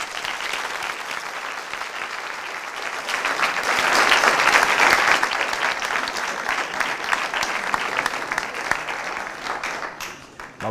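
An audience at a lecture applauds the speaker, steady crisp clapping that swells to a peak midway and holds before thinning out at the end.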